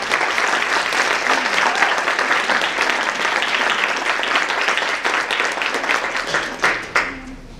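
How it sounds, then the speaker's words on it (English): An audience at a global languages awards ceremony applauds steadily for several seconds, a full, dense clapping that thins toward the end. "let's give a round of applause to Corey"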